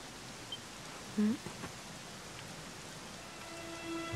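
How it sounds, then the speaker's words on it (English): Steady rain falling in the video game Dragon Quest XI, a soft even hiss of drops throughout, with a brief low blip partway through and no talk. "it was raining like this the last time I ever saw her"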